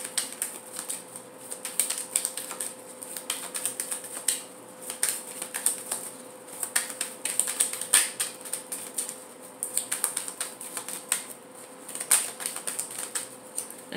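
A deck of tarot cards is shuffled by hand, giving a close, crisp flurry of papery flicks and taps in irregular bursts that continue throughout with no voices.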